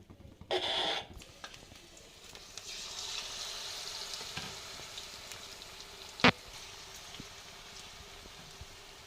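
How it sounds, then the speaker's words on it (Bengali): Battered food deep frying in oil, a steady crackling sizzle that builds after a short, louder burst at the start and carries on evenly, with one sharp knock near the end. "এরকম লাল লাল করে ভেজে নেব।"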